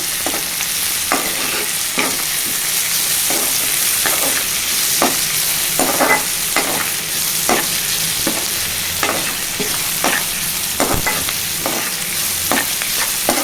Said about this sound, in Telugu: గ్యాస్ ఫ్లేమ్ మీడియంలో పెట్టుకోవాలండి కలుపుకోవాలండి